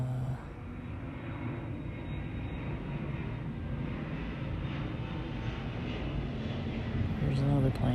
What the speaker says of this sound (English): here's another plane.